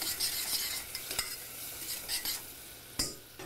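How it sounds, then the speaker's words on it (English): Scallops being stirred in a pot with salt and cracked black pepper: a few light scrapes and clinks over a low, continuous sizzle. "and give it a stir"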